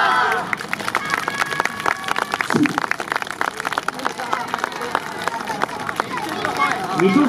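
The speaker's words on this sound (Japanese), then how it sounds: "もう一度大きな拍手を" Crowd applause and cheering at an outdoor YOSAKOI dance festival, dense steady clapping with crowd noise throughout and some voices in the background.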